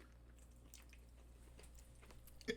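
Someone chews a mouthful of instant noodles mixed with crushed Oreo cookies, producing faint, close, soft wet squishing bites with occasional light crunches, and a louder sound at the very end.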